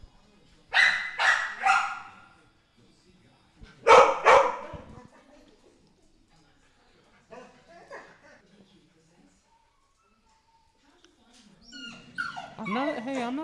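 A dog barks in a few sharp bursts, then goes quiet; a person talks later, after the barking stops.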